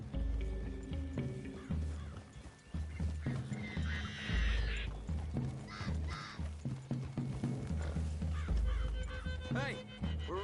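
Horses in a PS4 video game, with snorts, whinnies and hoof clops among forest birds and crow caws, heard in bursts close by under spoken game dialogue.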